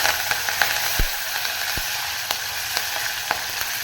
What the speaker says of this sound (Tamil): இப்போ கருவேப்பிலை சேர்த்துக்கலாம்.